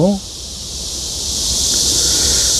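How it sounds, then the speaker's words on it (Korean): Dense, loud, steady buzzing of many black cicadas in an outdoor orchard setting, a continuous high drone that swells slightly over the clip after a brief voice at the start. "여기 뭐 말매미가 너무 많아가지고 아주 어, 소음 공해입니다"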